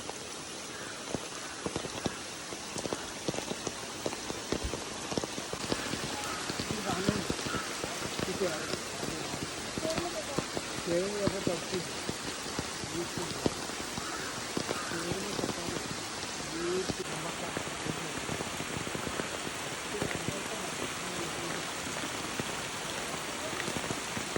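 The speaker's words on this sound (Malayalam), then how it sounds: "നല്ല മഴയാണ്" Steady, dense patter of heavy rain falling on trees and a pond nearby, continuous throughout, with faint voices murmuring underneath at times.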